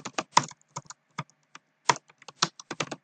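Brisk typing on a computer keyboard while writing C++ code, a run of sharp, uneven keystrokes close by with short pauses between bursts, no voices.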